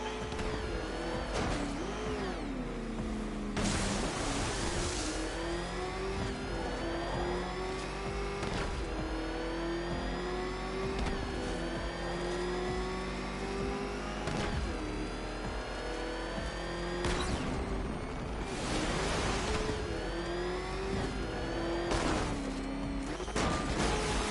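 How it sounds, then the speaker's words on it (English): Rough, ramshackle car motor revving hard in a racing video game, engine pitch climbing and falling through repeated runs, loud and continuous with occasional crash-like bursts and tire noise, no talking. "Can that ramshackle motor handle this?"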